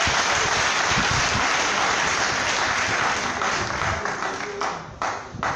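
A crowd applauds the mayor at a civil protection launch event in Yopougon, sustained dense applause filling the space for several seconds before it starts to thin out toward the end.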